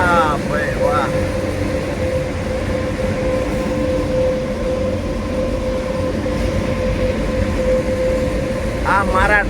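A Konkan Railway RoRo train carrying trucks rolls along with a steady, loud rumble and a continuous tonal whine throughout, with no clear rail clacks, and a voice speaks briefly near the start and end.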